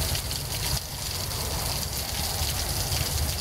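Steady rain hisses down during a motorcycle rally, a dense wash of falling water that stays constant with no talking.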